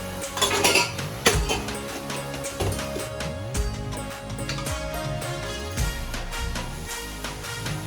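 Metal lid and utensil clatter around a pot of potatoes cooking on a low flame, with clinks and knocks at the start and lighter rattles afterward.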